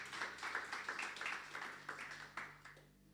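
An audience at a church service claps in a brisk, fairly even rhythm, with distinct claps standing out from the crowd patter before it thins and fades near the end.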